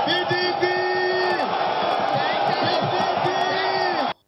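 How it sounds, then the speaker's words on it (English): Party supporters crowd a PDP presidential rally in Benin, cheering and whooping loudly and continuously, with voices shouting in a dense, close crowd. "The venue of the PDP rally in Benin was filled with party supporters who were on ground to receive their presidential candidate, Atiku Abubakar"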